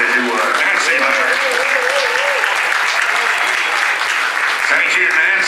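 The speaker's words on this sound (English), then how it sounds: "Let's give them a round of applause, if you would." An arena crowd at an equestrian celebration applauds steadily for a carriage driver in a dense, loud wash of clapping, with a voice talking over it.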